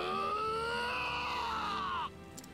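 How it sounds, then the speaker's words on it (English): A character in the video game Octopath Traveler 2 lets out a long, loud, high scream that slides slowly downward in pitch over about two seconds before cutting off abruptly, with no talk. "That was an excellent scream."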